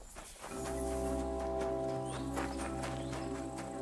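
Horse hooves clip-clopping steadily in the video game Kingdom Come: Deliverance 2, with a whinny over a continuous low musical hum and ambient background, moderately loud.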